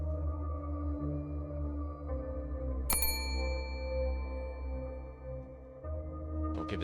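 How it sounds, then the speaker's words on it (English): Bell ringing in a video game, one sharp bright ding near the middle that rings out and decays over a few seconds, set over a steady low droning background tone. "Ringing the bell still does nothing."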